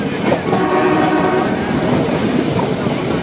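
A loud, continuous rumble of the Udhagamandalam (Ooty) toy train running nearby, with rattling wheels and a steady mechanical drone.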